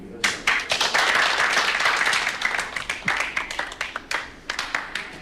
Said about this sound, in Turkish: Onları alkışlayalım. Hem de öyle bir alkışlayalım ki sesimizi herkes duysun.